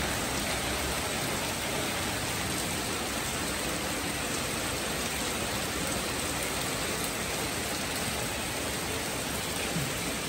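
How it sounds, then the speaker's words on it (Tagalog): Heavy, steady rain pours down continuously, a dense unbroken hiss of downpour with no voices. "Ang lakas po ng ulan."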